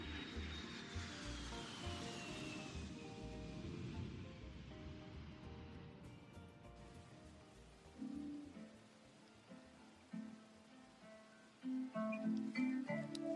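A fixed-wing airplane takes off, its engine roar sweeping through a falling whine and fading into a distant rumble, followed by scattered soft thumps and a low hum toward the end.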